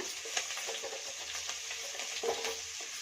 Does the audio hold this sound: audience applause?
no